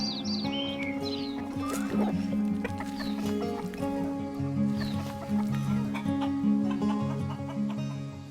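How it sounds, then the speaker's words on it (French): Hens cluck and chirp in an outdoor run within an agroforestry plot, with a dense, continuous chorus of short overlapping calls near and far and some faint background sounds. "Le Calinou, il vit avec les poules."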